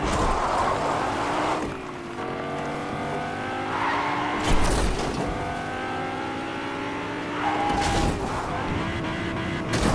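Lamborghini driving in Fortnite: a continuous engine drone with rising and falling revs as the car accelerates and shifts, steady and fairly loud throughout, with brief bursts of noise around the gear changes.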